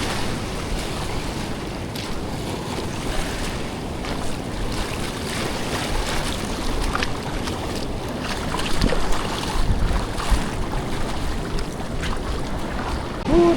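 Waves wash and churn in murky water near a sloping shore, a continuous broad rushing noise with slightly louder surges toward the end, no one speaking.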